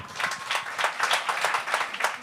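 An audience at a comedy show breaks into lively, dense applause that holds steady for a couple of seconds.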